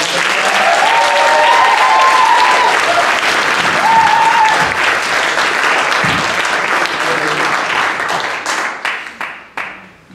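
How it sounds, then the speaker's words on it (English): An audience at a Bettakultcha Leeds talk night claps and cheers loudly for a speaker taking the stage, a full sustained ovation with a few voices and whoops mixed in, thinning into scattered final claps at the end. "Big round of applause for Chris."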